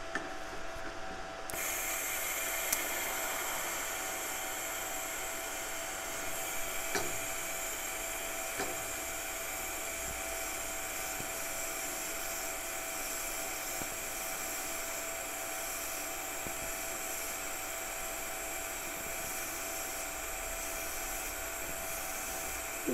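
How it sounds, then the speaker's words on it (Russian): A TIG welding arc from a Hugong ETIG 200 DP pulse inverter burns on stainless steel, giving a steady, soft, continuous hiss and buzz that holds evenly for the whole stretch without speech. "достаточно мягкое стабильное горение сварочной дуги, плавное затухание."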